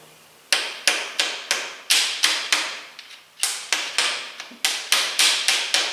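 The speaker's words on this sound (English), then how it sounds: "We're going to want to just tap it lightly with the hammer" A hammer taps a cap down onto a homemade catch pole in a steady run of about fifteen crisp, close strikes, each with a short ringing decay, with one brief pause partway through the sequence.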